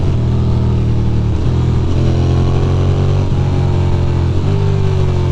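Ducati motorcycle accelerating hard on city streets in New York, a loud, close engine whose pitch climbs repeatedly through several gear changes with no voices.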